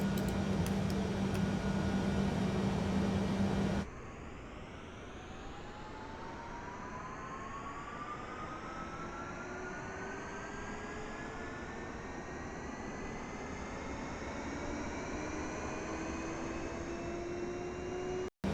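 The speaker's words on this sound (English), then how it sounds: "Now we'll start the APU." In a simulated Boeing 787 before pushback, the auxiliary power unit starts after a quiet click-like change, then spools up into a smooth, slowly rising whine over a steady airy hum, moderately quiet and continuous.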